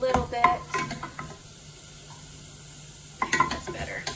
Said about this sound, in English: And then I'm gonna add the shallots first. I'll let that fry for just a little bit.